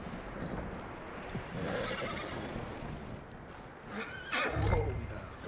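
A horse in the video game Red Dead Redemption 2 snorts and gives a whinny near the end, with hoof clops and ambient game sound beneath, fairly quiet overall.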